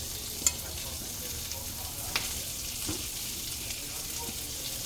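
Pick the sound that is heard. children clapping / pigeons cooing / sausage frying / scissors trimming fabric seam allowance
sausage frying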